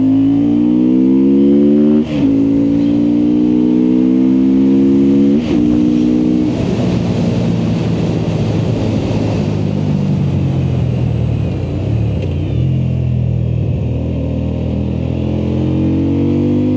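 A Voge motorcycle engine at the Loncin factory runs loud and close, idling steadily with a couple of sharp blips of the throttle before settling into a lower, smooth rumble.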